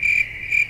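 Crickets chirp in two quick, high, steady trills with a brief pause between them. The sound is clear and close, with no other noise.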